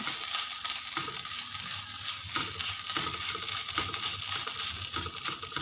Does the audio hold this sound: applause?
no